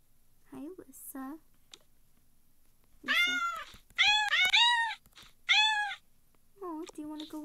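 A cartoon cat in the Toca Boca video game meows several times in short, bright bursts, with quieter childlike voices talking in between.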